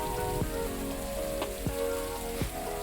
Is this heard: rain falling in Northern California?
yes